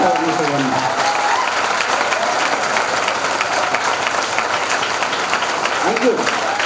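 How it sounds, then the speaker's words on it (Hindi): An audience at a large indoor business meeting in Mirzapur gives sustained, loud, dense clapping to welcome new guests, steady throughout with faint voices underneath. "हमारे नए गेस्ट का एक जोरदार तालियों से वार्म वेलकम करें।"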